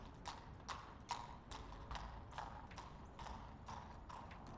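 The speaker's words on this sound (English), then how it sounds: "Horse." Horse hooves clip-clop at a steady walking pace, about a dozen evenly spaced hoof strikes, fairly faint and distant.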